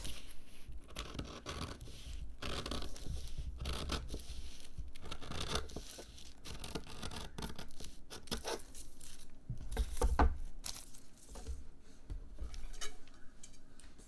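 Scissors cut a curve through four stacked layers of fabric for a bath mat, giving quiet, close, repeated crunching snips and scratchy tearing textures at an uneven pace.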